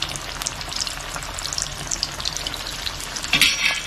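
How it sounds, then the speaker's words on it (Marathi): Bread rolls deep-frying in hot oil over a low flame make a steady, close crackling sizzle with scattered bubbly pops, heard alone without voices. "आता आपण तळून घेऊया."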